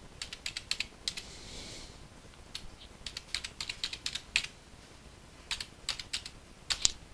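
Password keys tapped on a computer keyboard in irregular bursts of crisp, close clicks, with short pauses between groups of keystrokes and no voices.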